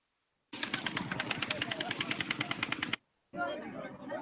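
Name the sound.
distant gunfire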